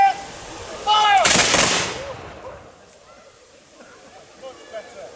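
A single sharp musket volley fired by soldiers at a military re-enactment at Falkland Palace, Fife, Scotland, a loud crack that decays over about a second, with a spoken word of command just before it and quiet after.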